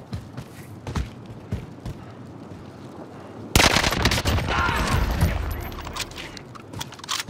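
Automatic gunfire in Call of Duty: Modern Warfare, scattered distant shots at first, then a sudden loud, close burst of sustained rapid fire that gradually thins out toward the end.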